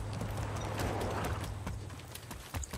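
Horse hooves clip-clop steadily in Far Cry 6, a rhythmic run of close, fairly loud hoofbeats over a low engine-like hum with no talk.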